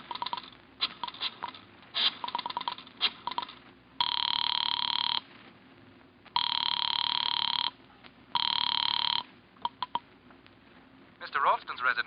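Telephone ringing in an old radio mystery drama: three long bursts of a bright electric bell separated by pauses, with short clicks and dialing-like noises before and after.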